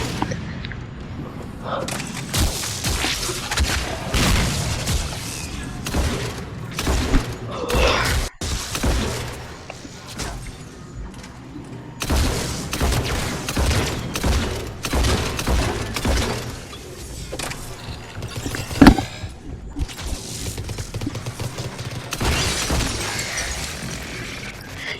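The M27 Scimitar shotgun in Mass Effect 3 booms in repeated heavy blasts, spaced irregularly amid game combat clatter and impacts, close and loud, without talk.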